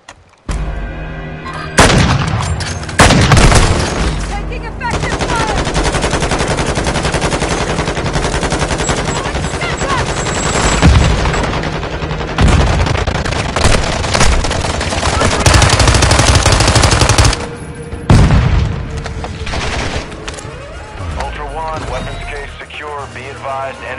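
Video game gunfire, loud and sustained, with rattling machine-gun bursts and heavy booming blasts crowding the whole stretch, a few sharp cracks standing out, and radio-style voice chatter cutting in under the shooting.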